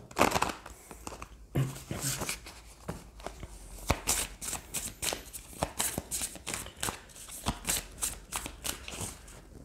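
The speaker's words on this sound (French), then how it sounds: "Alors on va tirer d'autres cartes du Power of Love." Tarot cards from a Power of Love deck being shuffled by hand, a steady run of crisp riffling and slapping card sounds, close and fairly loud, with no talking over them.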